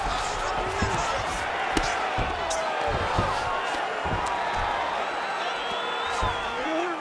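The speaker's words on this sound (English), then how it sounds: "they can take in the applause because they deserve it after that grappling exchange" A UFC fight crowd in Abu Dhabi applauds and murmurs at a moderate, distant level, with scattered sharp thuds and claps under a commentator's voice throughout.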